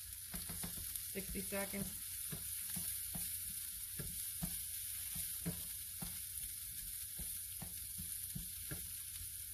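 Garlic sizzles steadily in a hot pan for a shepherd's pie, with a constant crackling hiss and scattered pops, while a voice speaks briefly over it.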